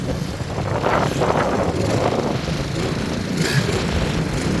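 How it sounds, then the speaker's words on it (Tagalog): Strong wind buffets the microphone at night in Dinahican in a constant low roar, with gusty surges rising and falling. "Oh, ang lakas ng hangin ah."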